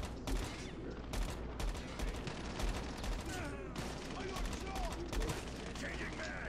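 Rapid bursts of video game gunfire in a GameLoop battle royale match, loud repeated volleys and automatic fire with short gaps, plus faint background game effects.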